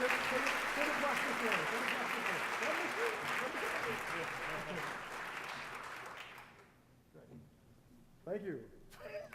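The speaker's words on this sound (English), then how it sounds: "y'all gonna give a big another round of applause again just for the group photo" Audience at the All Stars Project of Dallas fall luncheon applauds for a group photo, a dense steady round of clapping for about six seconds that fades out, followed by a few voices talking.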